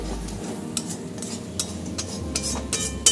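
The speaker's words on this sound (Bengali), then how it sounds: "মশলা থেকে যতক্ষণ না তেল বেরোবে ততক্ষণ আমি কষিয়ে যাব।" Masala paste with tomato and Kashmiri chili being stirred and fried in a pan until the oil separates, a close sizzle broken by repeated scraping strokes of a spoon against the metal.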